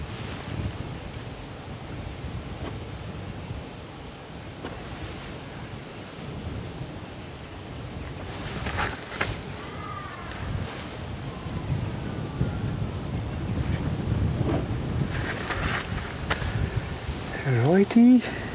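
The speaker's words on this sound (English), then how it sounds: "it's just a bit of a gust going through." A gust of wind sweeps outdoors at a camp during open-air painting, a broad rustling rush that swells and fades over many seconds, with faint birdsong and a few scattered knocks.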